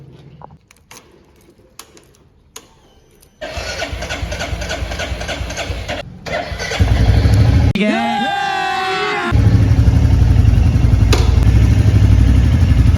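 A motorcycle that has sat unused and unwashed for days being started: faint clicks and clatter, then the engine catches and idles loudly and steadily close by, briefly dropping out and restarting with a rising rev.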